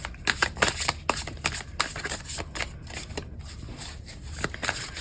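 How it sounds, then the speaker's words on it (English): A deck of tarot cards is shuffled by hand in quick, crisp riffles and slaps, a rapid irregular flutter close to the microphone with no talking. "I'm just shuffling to clear"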